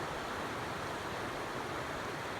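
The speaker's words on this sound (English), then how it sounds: "Yeah, you can tell the creek's actually freezing up." A creek in the British Columbia backcountry, icing up overnight in the cold, gives a steady, even rush of flowing water that holds at a constant moderate level throughout, with no voices over it.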